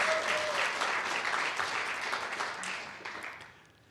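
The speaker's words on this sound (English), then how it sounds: "exuberant cheering is allowed in this ceremony" Cheering and applause from an audience at a nurse pinning ceremony, a dense roar of clapping with voices rising over it, fading toward the end.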